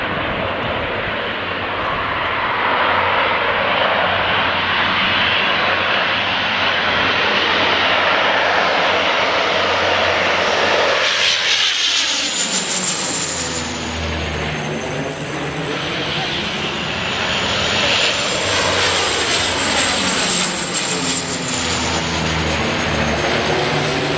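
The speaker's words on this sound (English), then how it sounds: "the government sent in tankers to battle the blaze" A firefighting tanker aircraft flying over a wildfire, its engine roaring loud and close as it passes overhead, with a rising and falling Doppler sweep and a steady drone filling the whole stretch.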